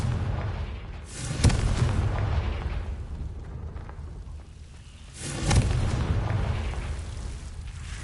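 The Confringo spell in Hogwarts Legacy detonates as two loud, deep booms a few seconds apart, each with a rumbling tail fading off.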